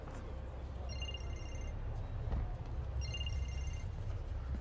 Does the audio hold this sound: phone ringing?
yes